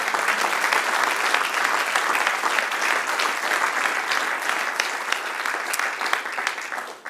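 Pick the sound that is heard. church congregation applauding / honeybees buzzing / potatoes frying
church congregation applauding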